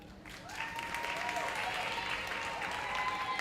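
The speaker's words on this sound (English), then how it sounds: "keep that applause going again for Ashley Stewart" An awards ceremony audience for the performing arts applauds in a dense, sustained wave of clapping that holds steady and loud across the whole stretch.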